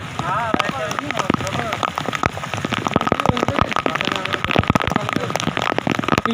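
Steady rain patters on surfaces in a village, a dense, continuous hiss of drops with sharper splats, close and fairly loud throughout.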